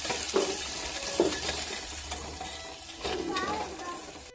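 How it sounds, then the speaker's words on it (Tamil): Chopped onion sizzles in a hot pan with green chili, with occasional scrapes and stirring clunks over a steady frying hiss throughout. "பொடிசாக நறுக்கி வச்சுருக்கிற அந்த ஒரு வெங்காயத்தையும் சேர்த்து நல்லா வதக்கிக்கலாம்."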